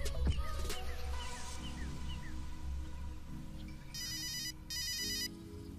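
A mobile phone left behind rings in a Hindi cartoon, a repeating electronic ringtone in two clear bursts near the end over quiet background sounds.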